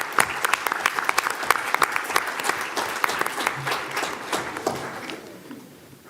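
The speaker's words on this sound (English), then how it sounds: "Let's give Layla a big round of applause." At a school board meeting, the room applauds student tennis player Layla Peacock, sharp individual claps rising into a full round of clapping before tapering off and fading out.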